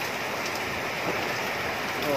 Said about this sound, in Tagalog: Oh, ulan na lang, no?